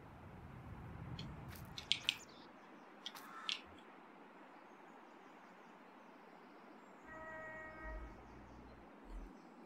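A train in the Farming Simulator 22 video game pulls in: a faint, steady rumble with a few short horn or whistle notes and brief clanks, then a low rolling sound near the end, without talk.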